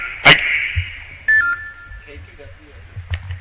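A short electronic beep rings out briefly, followed by a fainter tone, with quiet room noise and soft movement around it.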